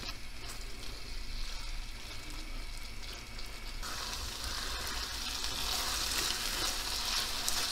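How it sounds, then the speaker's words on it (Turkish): Çıntar mushrooms seasoned with salt, black pepper and chili powder sizzle steadily while roasting in butter in a pan, a constant close frying hiss that grows a little brighter partway through, with no talking. "Mantar kavurmamız gayet güzel oldu. Tam istediğim gibi kavruldu."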